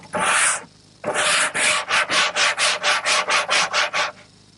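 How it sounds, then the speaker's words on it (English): Wood is sanded by hand with 60 grit sandpaper wrapped around a dowel, first a long rasping stroke, then about a dozen quick, even back-and-forth rubs, close and loud. "60 grit paper, and I'll just wrap it around a dowel as a form, and just keep sanding it until I start to take it down"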